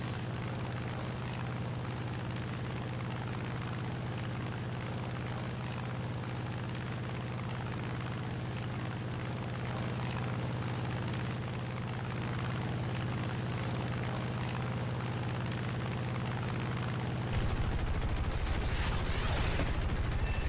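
A P-47 in War Thunder aerial combat fires a string of rockets at an enemy plane, the bursts sitting over a constant droning engine hum, with a louder shift in engine tone near the end.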